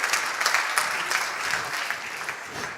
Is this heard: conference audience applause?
yes